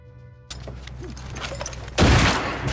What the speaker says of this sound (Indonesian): terjadilah baku tembak antara pasukan Amerika dan tentara Nazi